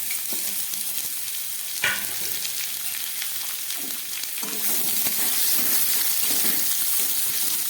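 Sliced beetroot sizzles steadily in hot oil with five-spice (panch phoron), a dense broadband frying hiss with a brief stir clatter near the start, growing slightly louder toward the end.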